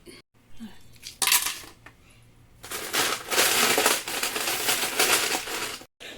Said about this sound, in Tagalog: Lagyan natin ng ice cube.